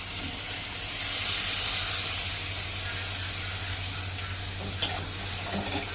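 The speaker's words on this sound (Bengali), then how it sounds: "দিয়ে এই মশলাটাকে এবার ভালো করে কষাই করে নেবে" Steady, fairly loud sizzle of a spice paste of chopped ginger, ginger paste and torn green chilli frying in oil, rising briefly then settling, with one sharp clink of a spoon against the pan and light scraping; no talking.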